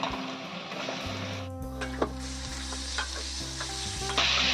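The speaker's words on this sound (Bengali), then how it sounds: "এখানে অল্প একটু মাংস দিয়ে প্রথমে আমি নাড়াচাড়া করে নেব" Spiced country chicken meat stirred and fried in a pan gives a continuous close sizzle, broken by repeated scraping and clinking strokes of the spatula.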